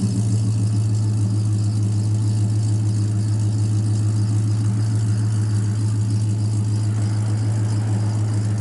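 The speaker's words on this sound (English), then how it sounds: "Sounds real good out the exhaust." A 1956 Chevrolet Bel Air LS engine idling steadily through its exhaust, a deep, even, loud rumble heard up close for the whole stretch with no talk over it.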